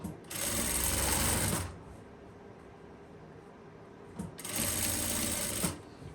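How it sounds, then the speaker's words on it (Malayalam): A sewing machine stitches lace onto a kurti in two short, fast bursts of whirring needle strokes separated by a quiet pause of a few seconds. "നമ്മൾ ആദ്യമേ ഇതിങ്ങനെ അറ്റം വരെ സ്ട്രെയിറ്റ് ആയിട്ട് തയ്ക്കുക കേട്ടോ"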